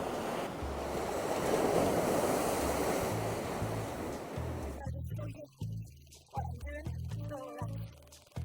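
Sea swells and gusting wind on the Howick coast in Northumberland, heard from a fishing spot: a loud, steady wash of surf and wind roar for about five seconds, then a quieter stretch with intermittent gusts.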